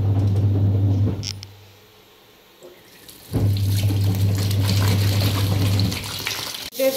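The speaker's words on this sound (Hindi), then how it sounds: "इसको भी धो लेती हूँ अब मैं।" Tap water runs steadily into a sink at home while a large mat is washed, a continuous rushing stream that stops briefly midway and then resumes just as loud, ending with a sharp knock.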